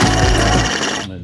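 Steel tube for a rally car roll cage is being notched with a loud, close, grinding power-tool whir that cuts off abruptly near the end, leaving a quieter ringing hum.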